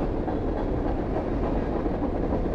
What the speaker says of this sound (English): From out of the fog, here we are, a train.